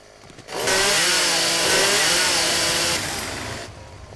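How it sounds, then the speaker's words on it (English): A chainsaw roars in the video game 7 Days to Die, revving up sharply into a loud, sustained buzzing whine with wavering pitch before dropping back to a low idle. "The chainsaw is extremely fucking loud."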